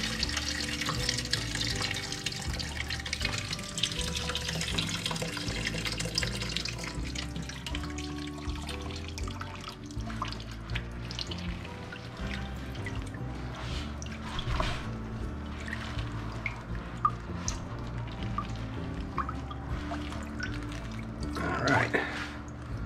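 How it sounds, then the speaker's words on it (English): Liquid from a bag of fresh peach pulp squeezed by hand, trickling and dripping into a bucket during peach wine making, a steady wet splashing that carries on through the whole stretch. "we're going to have to squeeze out this bag of pulp to get the rest of it"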